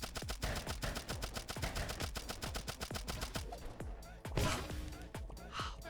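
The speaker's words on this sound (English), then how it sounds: "I like to basically just keep holding down the trigger button on the SMG and just absolutely go to town destroying things" Rapid SMG fire in Turnip Boy Robs a Bank, a steady stream of sharp shots with crashing impacts as furniture is smashed, loud and continuous, with a bigger crash near the end.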